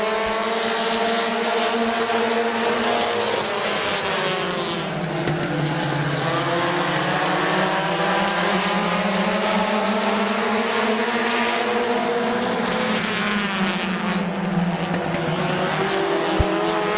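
Race cars at Midvale Speedway roar loudly around the oval, engine notes rising and falling in sweeping pitch as a pack passes, a continuous near, dense drone of several cars racing.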